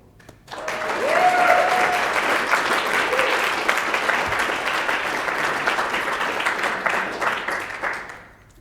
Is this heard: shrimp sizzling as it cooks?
no